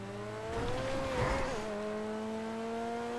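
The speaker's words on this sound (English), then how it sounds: "the beautiful sound of LaFerrari" A LaFerrari engine in GTA 5 revving up and dropping back with a smooth rising and falling whine, steady and fairly close, with no talk over it.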